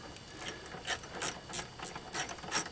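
Sharp, quiet snaps and ticks coming from the dashboard of a 2006 Chevy HHR that has intermittent gauge and dash light trouble. The clicks come in an irregular series of about six to eight, with no talking over them.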